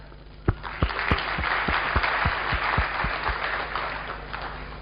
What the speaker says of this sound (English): All right, please again give Paul a warm round of applause.